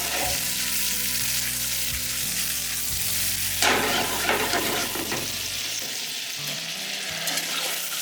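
Garlic fries in a hot pan for shrimp fettuccine Alfredo, a steady close sizzle with a low pan hum that breaks off near the end, leaving the hiss alone.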